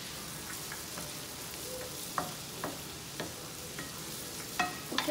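Onions frying in a pan for a lamb chop dish, a steady soft sizzle with occasional sharper clicks and stirring scrapes, close and moderately quiet throughout, no voices.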